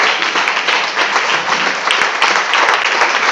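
A church congregation applauding loudly and continuously to acclaim Jesus, dense clapping from many hands filling the room, close and sustained.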